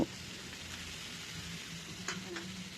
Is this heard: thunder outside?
no